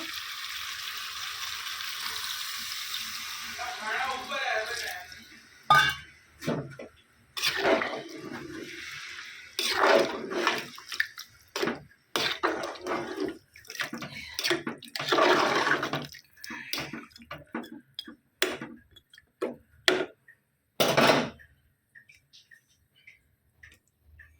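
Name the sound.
water poured into a pan of cooking chop filling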